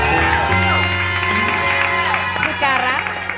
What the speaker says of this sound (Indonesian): Tepuk tangan dulu dong untuk berita-berita kita.